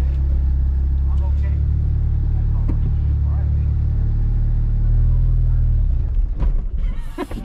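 A manual car pulling away in first gear, its engine droning low and steady inside the cabin and shifting in tone near the end, with people talking over it.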